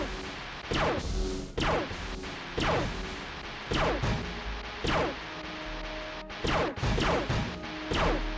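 Repeated heavy crash impacts from ships colliding in the space combat game Wing Commander, about eight loud smashing hits spaced roughly a second apart over a steady engine drone.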